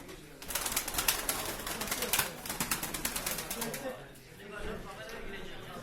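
Pigeons coo softly at a pigeon auction in Eskişehir amid a flurry of flapping wings and shuffling, with a voice briefly heard in the background.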